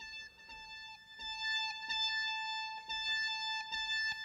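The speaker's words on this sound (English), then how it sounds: "that is the sound of my Op6" An Op-6 synthesizer plays bright, sustained chords drenched in reverb, the tones re-struck in a loose rhythm every second or so and ringing on between attacks.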